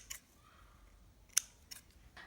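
Scissors snip through yarn in a few quick, crisp cuts, close and fairly quiet, spaced out over a couple of seconds against a near-silent background.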